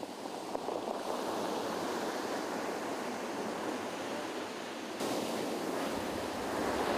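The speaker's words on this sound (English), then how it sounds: "When the wave reaches shallow water, the top of the wave, called the crest, plunges forward on the shore, and the waveform collapses." Ocean waves break on a shore, the crest plunging forward and collapsing. A loud, continuous roar of surf washes steadily throughout, with no voices.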